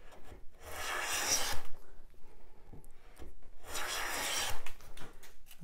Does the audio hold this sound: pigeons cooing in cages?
no